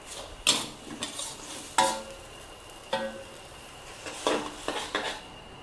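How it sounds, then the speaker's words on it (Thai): Glass noodles stir-fried in a pan over medium heat, a spatula knocking and scraping at irregular intervals over a faint sizzle, close and moderately loud, with no speech. "ผัดให้วุ้นเส้นนิ่มเลย"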